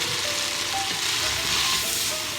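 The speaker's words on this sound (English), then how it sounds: "Putting some butter in the pan, it's melting up real nicely." Butter sizzling in a hot pan with freshly cooked pasta for gluten-free chicken Alfredo, a continuous close hiss without any voices.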